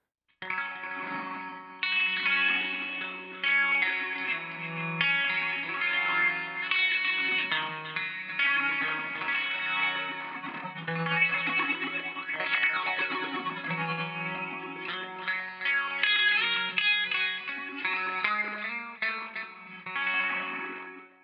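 A shimmering, bubbly guitar tone from a Zoom G9.2tt effects processor, drenched in chorus and modulation, playing a steady, continuous stream of notes with no voices.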